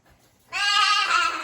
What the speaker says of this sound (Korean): 1번 양